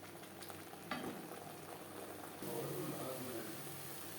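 Ground spices stirred into frying whole cumin, coriander, bay leaf, dried chilli and black pepper: a steady soft sizzle with faint scraping and a brief clink, slightly louder near the end.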